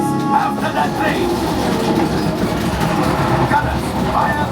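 A train rumbles and rattles steadily during the Millennium Falcon: Smugglers Run ride, a loud, continuous clatter with no clear voices over it.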